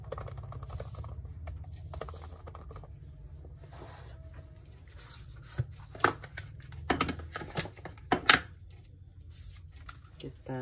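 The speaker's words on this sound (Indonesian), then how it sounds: "Kita tes untuk keyboard-nya." Someone types on the keyboard cover of a white Xiaomi Pad 5 tablet running Windows, giving bursts of light, close plastic key clicks that grow sharper and more irregular toward the end, after a low voice at the start.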